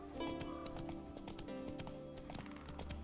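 Roach, the horse in The Witcher 3, trots along with quick, steady clip-clop hoofbeats, close and continuous over a game background, with a brief whinny mixed in.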